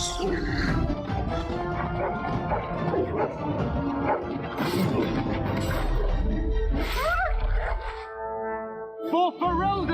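War dogs in the fantasy video game Dragon Age: Origins bark and yip amid a dense, loud battle din of clashing and crashing, with brief whimpers near the end.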